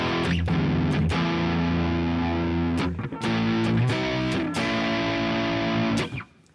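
Electric guitar driven through chunky, gainy distortion effects modules, playing loud sustained riffs with thick low chords and brief pick attacks, a short break near the middle, then ringing off at the end.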